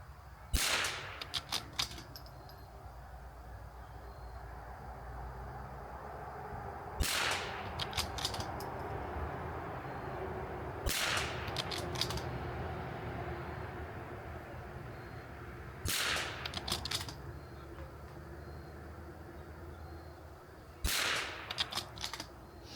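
Precision rimfire rifle fired from a rest bag outdoors, five sharp cracks spaced several seconds apart, each followed by a brief echo, over a steady background hum.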